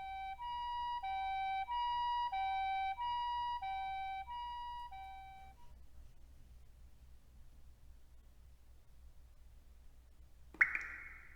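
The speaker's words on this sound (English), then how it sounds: "he didn't even register the ambulance racing past a little while later" Ambulance siren in a visual novel game, a loud two-tone wail repeating for about five seconds before cutting off, followed by quiet low hum and a sharp click near the end.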